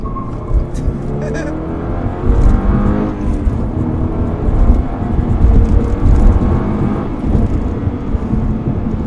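A Subaru BRZ sports car accelerates hard, its engine droning and rising steadily through the revs from close inside the cabin, with road and wind noise underneath.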